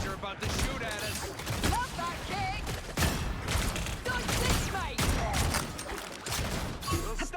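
Video-game gunfire bursts out again and again in a busy match, loud volleys and rattling shots piling up over each other, with voices and game effects mixed in throughout.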